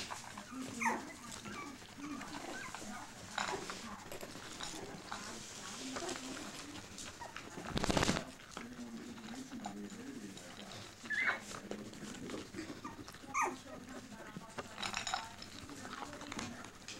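Dachshund puppies whimper and yap softly in short, scattered bursts, faint and close, with small squeaky cries repeating throughout.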